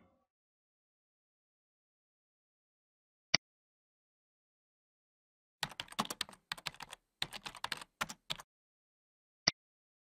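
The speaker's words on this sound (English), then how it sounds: "Enter Dynamic in the search box and click the search button." Computer keyboard keys tapped in quick clustered bursts while typing into a software search box, after two isolated single key clicks, all close and crisp against otherwise silent background.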